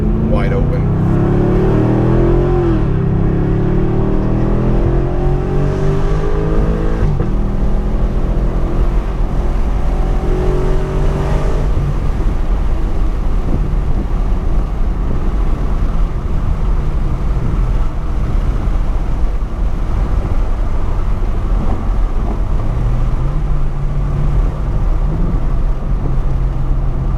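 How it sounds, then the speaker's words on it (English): A Camaro SS V8 with its catalytic converters reinstalled and a Roto-Fab intake revs up in a few rising pulls, then settles into a steady idle. Wind buffets the microphone throughout, and someone talks over the engine. "my catalytic converters are back on the car, so you can get a sense of how much quieter the car is now"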